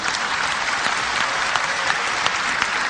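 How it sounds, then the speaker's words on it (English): Steady audience applause fills the room at a lecture on religion, dense clapping from a large crowd sustained evenly throughout with no talk over it. "MashaAllah, you're clapping."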